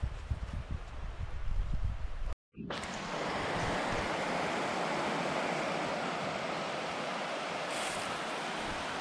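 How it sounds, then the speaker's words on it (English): A glacier-fed creek runs off the mountains on Kodiak Island, a steady, loud rush of water that fills the whole clip with only a brief dropout near the start. "It's a glacier-fed creek coming off the mountains."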